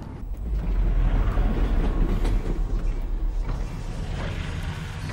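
Train ride in the Half-Life: Alyx VR game: a continuous rumbling, clattering rail car with creaks and mechanical rattles, loud and close throughout, no talking.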